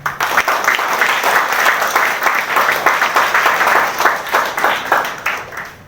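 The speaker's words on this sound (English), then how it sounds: "give a round of applause" A crowd applauds steadily for several seconds at a school event, a dense patter of many hands clapping that holds level before easing off.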